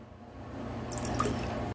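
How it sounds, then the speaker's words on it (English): Rice vinegar poured into a bowl for a salad dressing, a soft close trickle and drip that swells slightly partway through and then cuts off. "Let's add some rice vinegar."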